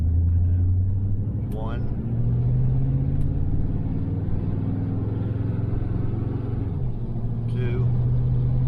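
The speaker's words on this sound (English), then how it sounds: "we're just leave it and overdrive, and see how it shifts on its own" A 1968 Chevelle Nomad with an automatic transmission drives along in overdrive, its steady engine rumble holding close and loud, with a short dip and change in pitch as the gearbox shifts, while a voice counts over it.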